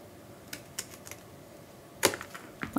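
Scissors cutting cardstock for a crafted pencil pouch, a few sparse sharp snips and crisp clicks, close and quiet, with a louder cluster near the end and no talk.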